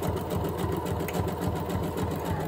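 A sewing machine runs steadily at speed, its rapid even stitching rhythm continuous and close, with no voices over it.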